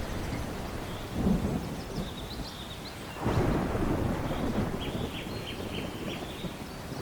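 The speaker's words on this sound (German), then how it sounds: "Der erste Regen der Saison war zurückgekehrt und fiel schwer auf den trockenen, rissigen Boden" Heavy first rain of the season pouring onto dry, cracked savanna ground, a steady dense hiss with two deep thunder rumbles, the second louder and longer, while birds chirp faintly in the background.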